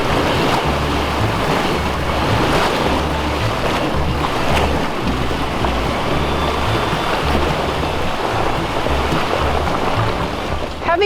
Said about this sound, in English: we cross the creek at David's Big Boulder Beach